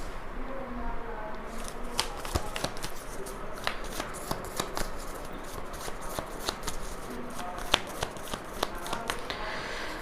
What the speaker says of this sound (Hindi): चलिए कार्ड्स को थोड़ा सा क्लैरिफाई करते हुए ओशो से कार्ड्स निकालते हैं